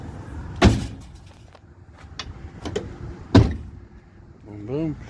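The sliding door of a 2016 RAM Promaster City van is shut twice, two loud solid thumps a few seconds apart with quieter rattles and handling noise between them and a short voice near the end.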